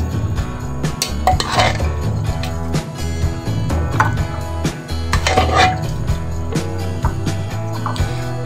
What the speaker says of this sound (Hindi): डोंगे में डाल दिया गया है सालन आलू गोश्त